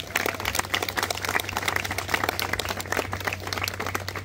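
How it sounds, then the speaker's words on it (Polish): An outdoor crowd at a historical reenactment commemoration in Anielin gives warm applause, dense continuous clapping over a low steady hum, fairly close and even throughout. "Gorące brawa dla nich!"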